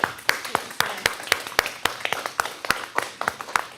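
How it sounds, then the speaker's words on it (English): Attendees at a school district board of education meeting clap together for several seconds, the claps sharp, close and slightly irregular, like a modest group in a room. "I just want to give you a round of applause for everything you've done"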